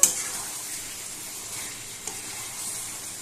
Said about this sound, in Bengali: তো বন্ধুরা খুব ভালোভাবে কষিয়ে নিতে হবে